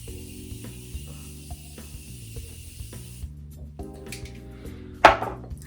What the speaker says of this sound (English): So I use my Morphe setting spray. Move my hair out the way. And I just spray all over.